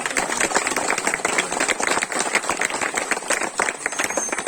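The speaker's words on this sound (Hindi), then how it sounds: "जोरदार ताली बजा" A crowd at a village political rally in Uttar Pradesh claps hard and fast, dense steady applause close by, all the way through with no gap.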